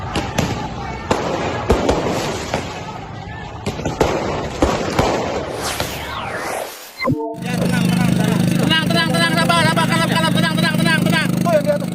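Sharp firecracker bangs pop repeatedly amid crowd noise and shouting during a clash between martial arts group members in Yogyakarta, followed by a sudden cut to a different, steadier scene with music-like tones.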